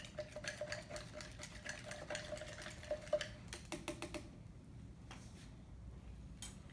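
Salt being stirred into water for an osmosis experiment: quick light clinks and scraping taps repeat rapidly for about four seconds, close and fairly quiet, then give way to a few scattered knocks.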